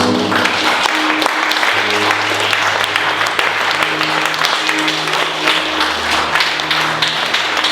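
A church congregation bursts into loud, sustained applause during a Sunday worship service, dense clapping filling the room steadily throughout with no break.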